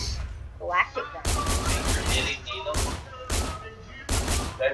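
Rapid bursts of gunfire from a galactic gun in a shooting video game, loud and repeated in several sustained volleys with short gaps between them.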